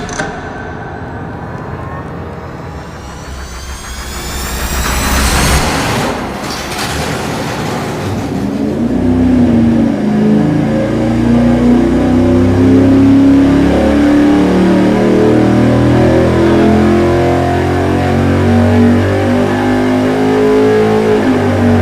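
A street V8 fitted with a dual-plane intake manifold, run on an engine dyno: a low idle-like rumble for the first few seconds, then a sharp roar as it fires and pulls, settling into a loud, sustained, steadily climbing engine drone.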